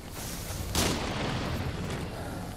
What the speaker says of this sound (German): Oh, das explodiert ja wirklich.